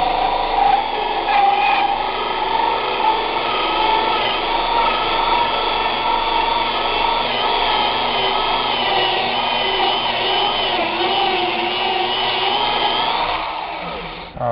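A power drill drives a hole saw into wood while building shed walls, a loud, continuous grinding whir with a rough, rasping edge that runs steadily for the whole stretch before winding down at the very end.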